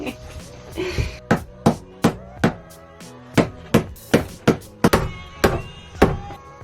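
A hammer drives wooden trim into place in a camper bedroom, a run of about a dozen sharp, loud knocks at a fairly steady pace, with short pauses between groups of blows and no talk.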